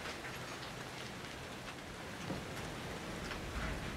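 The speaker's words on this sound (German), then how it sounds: "es regnet einfach Blut" Rain of blood pours down in the Outlast 2 video game on Switch, a soft, continuous patter and hiss with occasional heavier drops and no talking.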